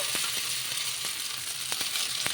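Sago (sabudana) dosa batter sizzles on a hot oiled pan, a steady close crackle with a few sharp pops scattered through, no voices present.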